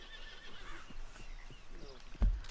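A horse in Red Dead Redemption 2 whinnies, and its hooves clip-clop close by, with a sharp thud at the end.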